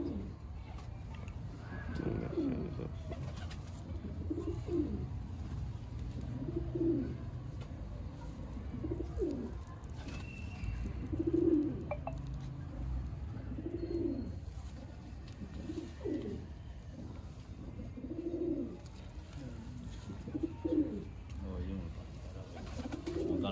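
Black-faced pigeons kept by a fancier coo in a steady, repeating series of soft low calls, several in a row, close by over a constant background murmur.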